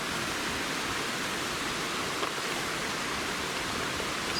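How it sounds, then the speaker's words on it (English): Waterfall on Seneca Creek giving a steady, broad rushing hiss of falling water, fairly faint and distant, with no voices. "I think I hear another waterfall"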